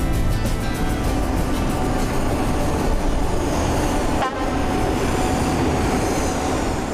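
Electric six-axle locomotive hauling a 1,500-tonne coal train, a steady loud rumble of rolling wagons with a brief horn or squeal partway through, no voices.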